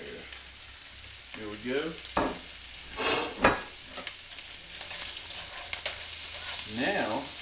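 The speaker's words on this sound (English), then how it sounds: "Then we're going to bring in our sausage." Sausage goes into a pan of hot canola oil and crackles and sizzles steadily, with a few sharper spits and stirring scrapes, while a voice speaks briefly.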